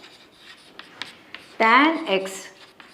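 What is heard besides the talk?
writing out trigonometry solution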